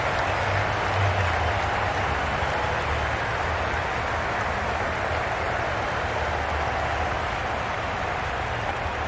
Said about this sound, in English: This match is getting unbelievably exciting and the crowd have joined the party. It's pretty noisy in the ground.